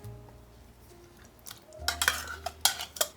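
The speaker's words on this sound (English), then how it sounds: "I'm going to stir that into our queso" A spoon stirs diced green chilies into a melting keto queso in a pot, giving a run of close scraping and clinking strokes that build after a quiet start, with no talk.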